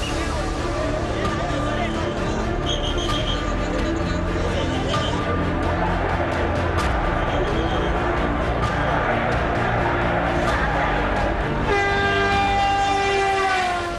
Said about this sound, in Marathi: दादर स्टेशनवर लोकलमध्ये गर्दी असल्यानं राज ठाकरे यांनी वाट बघितली.